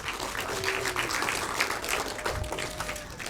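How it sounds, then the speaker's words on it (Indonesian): Applause from an audience at a Share Edu Indonesia event fills the stretch, a steady wash of clapping that runs throughout and thins slightly near the end, with faint voices and tones beneath. "Tepuk tangannya mana?"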